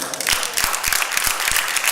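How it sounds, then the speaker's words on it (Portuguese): A church congregation claps in praise during a service, a short burst of fairly faint applause with a few sharper individual claps standing out. "dê uma salva de palmas ao Senhor"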